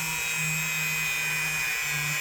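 A Scotch-Brite type attachment on a rotary tool polishes a vintage Kutmaster electrician's knife, giving a steady high-pitched whine and a constant abrasive hiss, close and unbroken.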